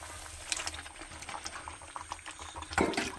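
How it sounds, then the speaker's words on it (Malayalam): Washed beef dropped into hot oil with chilli and coriander powder, giving a soft bubbling, crackling sizzle with small pops and a louder burst of spattering near the end, steady and close with no talking. "ഇനി നമുക്ക് കഴുകി വെച്ചിരിക്കുന്ന ബീഫ് ഇതിലേക്ക് ഇട്ട് കൊടുക്കാം"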